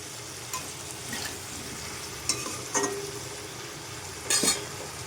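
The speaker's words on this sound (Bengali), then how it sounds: "এবার ভালো করে সব কিছু একসাথে মিশিয়ে নেব। এরই মধ্যে এখন ইলিশ মাছের মাথাগুলো দিয়ে দেবো।" Hilsa fish heads and greens fry together in a pan, with a steady sizzle under several sharp scrapes and clinks of a stirring spoon against metal, close and fairly loud, no one speaking.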